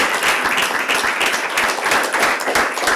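A lecture audience gives sustained applause for the speaker on housing and politics in Zurich, a thick, even wash of clapping from many hands throughout.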